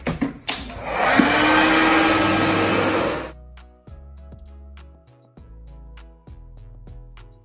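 A Revlon RevAir suction hair dryer whooshes loudly for about three seconds with a steady airy roar, then cuts off. Quiet clicks and soft tones follow.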